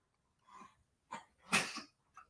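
A sneeze from a nearby person, fairly quiet, in a few short bursts. Breathy sounds lead into a sharp explosive burst, then a brief tail.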